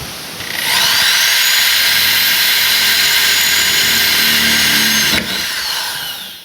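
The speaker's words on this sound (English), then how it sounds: "we'll go ahead and drill another guide hole and maybe the rest of them" A power drill whines loudly and steadily for about four seconds while drilling guide holes in a Porsche 912 garage, then winds down and stops, close up with no talking.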